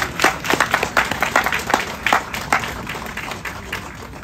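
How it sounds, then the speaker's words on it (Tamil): Scattered audience clapping at a Tamil speech event, a handful of individual claps in loose rhythm rather than a full ovation, fairly close and moderately loud with no one speaking. "உங்களுடைய கைத்தட்டல் கிடைத்தால் இன்னும் சந்தோஷமாக இருக்கும்."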